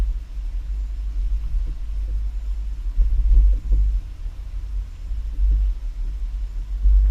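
A 2022 Chevrolet carrying a Swagman XTC2 tilt bike rack rolls slowly over speed bumps, giving a deep continuous rumble with a few louder thumps and swells as the wheels and rack go over each bump.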